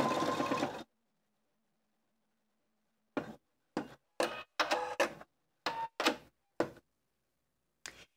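A sewing machine stitches a tapered satin stitch in short, separate bursts of mechanical whirring, about eight quick runs broken by pauses after a longer opening run and a stretch of silence.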